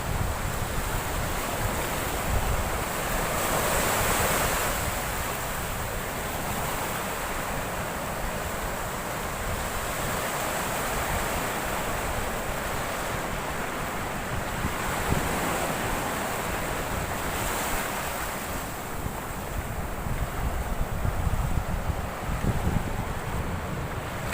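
Sea waves roll onto a Goa beach in a continuous, loud roar that swells and eases every few seconds, mixed with gusty wind buffeting the microphone.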